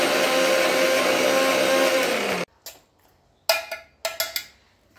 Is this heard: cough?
no